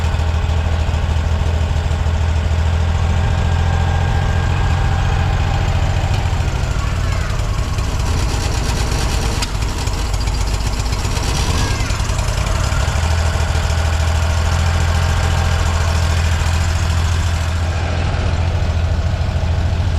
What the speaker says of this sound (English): So it's idling pretty good now.